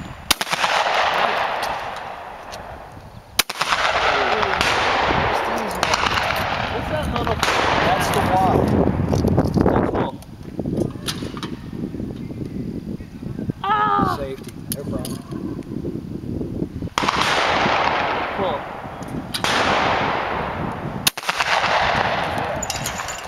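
Shotgun shots at clay targets at an outdoor clay shooting range, a series of loud sharp bangs spaced several seconds apart, some in quick pairs, with an instructor talking between them.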